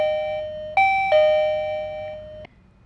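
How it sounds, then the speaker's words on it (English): Arlec DC685BK wireless door chime: several clear, bright chime tones ring out close and alone, each note sustaining and slowly fading before the chime stops abruptly. "you will hear a chime sound"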